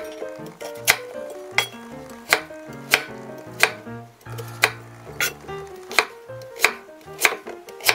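Knife chopping peeled sweet potatoes on a cutting board, with sharp, evenly spaced thunks roughly every half second close up and faint clinks between strokes.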